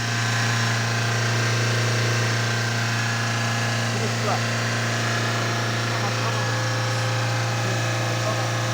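A Fiat Doblo 1.3 Multijet Euro 5 diesel idles untouched during particulate filter cleaning, its exhaust glowing red-hot, giving a loud, close, unbroken drone with a strong low hum and no revving.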